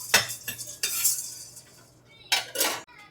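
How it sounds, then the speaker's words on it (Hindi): Ingredients are dry-roasted for halwa, with a metal spoon clanking and scraping against the pan in bursts between quiet pauses and only a faint sizzle. "तो जल्दी से भून लेती हूँ"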